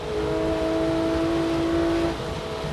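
A Porsche 911 GT3 engine drones at a steady high pitch, accelerating along the Grand Sambuc circuit near Aix-en-Provence, then dips briefly as it eases off near the end.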